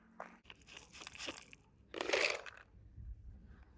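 A dog crunches and chews food up close, with irregular bites and a louder crunching burst partway through, then quieter chewing.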